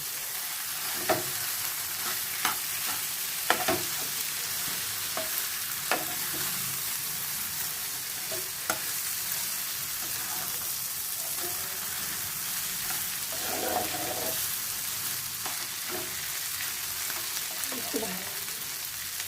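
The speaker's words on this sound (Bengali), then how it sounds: "একটু ভাজা ভাজা হোক" Prawns sizzle steadily in a hot pan, with soft scraping and clinking from stirring now and then. No one speaks.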